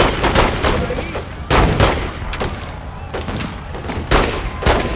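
Gunfire in the crime game The Godfather II: loud, close bursts of shots fired in irregular volleys, several sharp cracks spaced across a few seconds.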